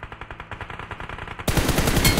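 Gunfire in the video game PUBG: a steady stream of rapid automatic shots pulses evenly, then a louder, denser burst of fire erupts close by and carries on to the end.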